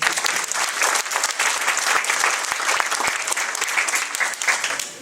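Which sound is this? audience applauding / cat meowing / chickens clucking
audience applauding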